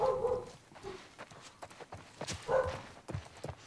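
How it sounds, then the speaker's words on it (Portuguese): Dogs bark inside a house at the door, a few short distant yips scattered among shuffling and footstep-like knocks, faint and intermittent. "desculpem aí se tiver saindo barulhos de cachorros"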